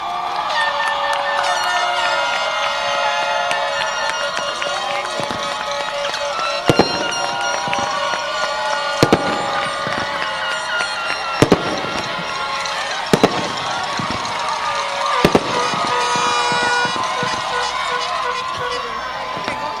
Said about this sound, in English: let's give them deserving round of applause